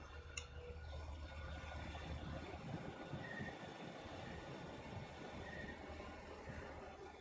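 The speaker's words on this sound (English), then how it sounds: "that's the Union Pacific on the SD40 that I painted." A Union Pacific SD40 diesel locomotive in a train simulator game on an Australian route, rumbling steadily with rolling wheel noise and faint squeals, heard alone and continuous.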